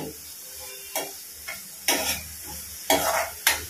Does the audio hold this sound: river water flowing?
no